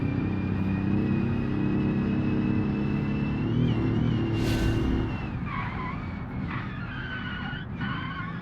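A roadster in the driving game Automation brakes hard and skids, its engine droning loudly before tyres squeal in wavering, repeated screeches as the car slows.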